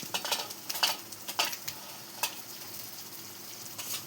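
Grated onion and spices frying in mustard oil for aloo dum, stirred slowly in the pan, giving soft sizzling with scattered scraping clicks of the spoon at close range.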